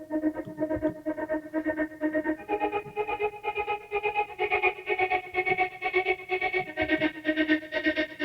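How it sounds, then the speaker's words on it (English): A stuttering, chopped vocal fades in through a filter and repeats in a rapid pulsing rhythm, washed in heavy reverb and effects processing, with no speech over it. "Let's filter in the stuttering vocal."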